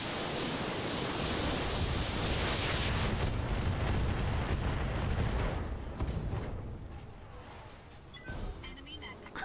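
Mech weapons firing in the Roguetech video game, a loud continuous barrage of roaring blasts and rumbling explosions that thins toward the end, with a voice speaking over it.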